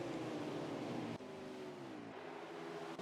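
A pack of stock race cars in a racing video game, on a Cup Series race at Michigan, drones together with high engine tones that slide gradually downward, loud and continuous with brief shifts as cars change gear.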